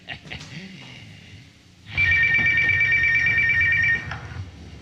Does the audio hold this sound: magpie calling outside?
no